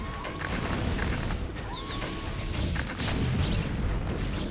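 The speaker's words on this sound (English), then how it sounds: "the tank fire is problematic." Siege tank cannon fire in StarCraft: Brood War Remastered on the Fighting Spirit map, heavy booming blasts and crashes over a constant dense battle din of game effects.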